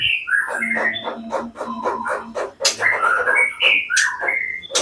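A white-rumped shama sings a varied, rapid sequence of clear whistles, trills and chirps, loud and close, continuing without pause.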